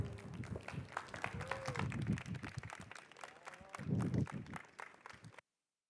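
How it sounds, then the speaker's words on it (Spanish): A conference audience at a fashion-law talk claps with scattered hands and some voices mixed in, swelling twice before cutting off abruptly near the end. "Un aplauso, por favor."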